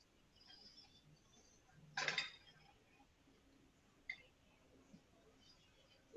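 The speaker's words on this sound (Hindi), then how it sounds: "उसमें सेट करके मैंने कुकर में ये बर्तन को रखा है।" A metal pot of cake batter set down inside a preheated pressure cooker gives a single brief clatter, followed by a couple of faint clicks in a quiet kitchen.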